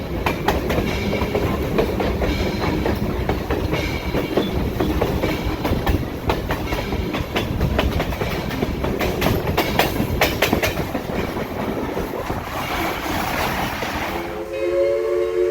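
Tennessee Valley Railroad Museum's Missionary Ridge Local rolls along with steady clickety-clack and rumbling wheels on rail, loud and continuous, with a horn sounding near the end.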